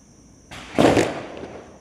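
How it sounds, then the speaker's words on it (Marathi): A rope bomb firecracker goes off outdoors during a festival celebration. A brief hiss is followed by one loud, broad blast that fades over about a second, with no voices. "बॉम्ब लावते रस्सी बॉम्ब लावते"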